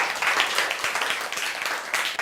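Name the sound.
classroom applause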